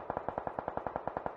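Rapid automatic gunfire from a video game scrimmage rattles in an even burst of about fourteen closely spaced, punchy shots, moderately loud with a slight echo and no talk over it.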